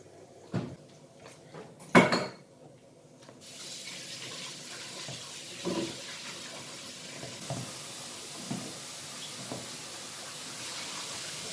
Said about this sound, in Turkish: Sen ellerini yıka.